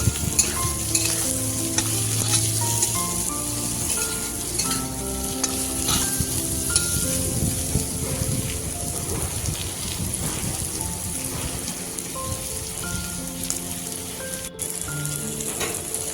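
Onion and spices, cumin powder and Kashmiri chilli powder, sautéing in a pan, with a dense, even sizzle and crackle running throughout, close up and steady, with a faint melodic tone underneath.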